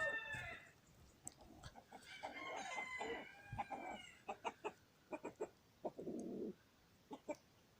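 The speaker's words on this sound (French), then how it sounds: "avec le gros coq, qui est là, mon coq févrole" A large Faverolles rooster crows among other clucking chickens near an aviary, followed by a run of sharp, separate clucks and calls close by with no talk.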